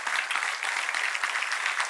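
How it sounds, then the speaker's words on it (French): Dense, steady applause from an audience cheering players at a squash club event, continuous clapping with no speech. "vous pouvez continuer d'applaudir André, Cathy, Maria-Antonia"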